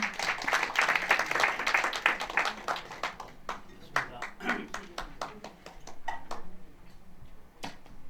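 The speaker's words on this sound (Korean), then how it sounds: "여러분 큰 박수로 맞이해 주시기 바랍니다." A crowd at a year-end tea ceremony gathering claps in a burst of applause that thins out to scattered, sharp claps toward the end.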